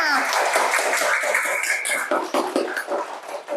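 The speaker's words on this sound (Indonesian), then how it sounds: "tepuk tangan buat kalian semua" A class of students clapping together in a school lesson, a dense, steady patter of claps under chatter and voices before fading.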